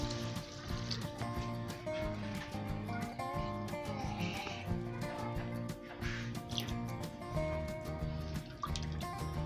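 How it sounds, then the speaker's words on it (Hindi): Water splashing and trickling into a pot of beef and cauliflower, with dripping and clinking, continuing steadily at close range. "अब इसमें पानी डालें।"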